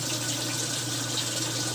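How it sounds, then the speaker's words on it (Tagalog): Aquarium air stone bubbling steadily in a tank set up for berried shrimp, a continuous even hiss of fine aeration with no pauses or talk. "air stone natin is para magkaroon ng aeration yung tubig natin"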